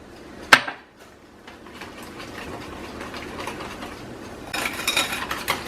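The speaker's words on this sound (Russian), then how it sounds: "И тоже хорошо все перемешиваю, чтобы не было комочков." A custard cream of milk being stirred in a bowl, giving a sharp clink near the start followed by steady scraping and clattering that grows busier toward the end.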